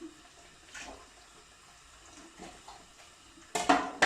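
Dishes are washed under a running kitchen tap: faint trickling water and the occasional soft clink of plates, ending in a louder rush of water near the end.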